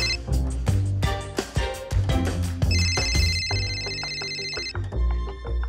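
A telephone ringing with repeated electronic bell tones, loud and close, the rings layered over clattering, music-like sounds in a Vietnamese TV drama scene.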